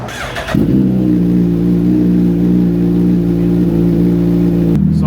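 A 2022 Suzuki Hayabusa engine with drop-in cams and a custom dyno tune cranks briefly, then fires up and settles into a loud, steady, throbbing idle close by before cutting off at the end.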